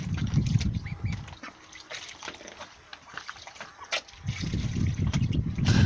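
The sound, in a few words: young Pekin ducks quacking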